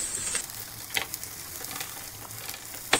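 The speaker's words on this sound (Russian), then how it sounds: "Уже все так поджарилось. Лопаткой со всех сторон поддеваем." Cabbage-crust pizza frying in a pan, loosened from all sides with a spatula: a quiet, steady sizzle with a few soft scraping ticks and a louder scrape near the end, no talking.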